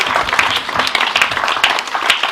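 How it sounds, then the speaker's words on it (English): Applause for a councillor at a charity launch: a room of people clapping steadily and fairly close for a couple of seconds, dense and even with no pause. "A round of applause for Councillor Rockwell."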